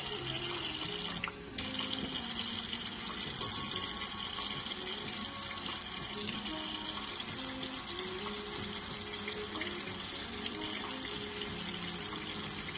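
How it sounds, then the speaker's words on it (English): Water runs steadily from a tap into the mix for a double batch of homemade egg pasta dough, a continuous close-up gushing stream with no voices over it. "So I'm gonna add some water to it."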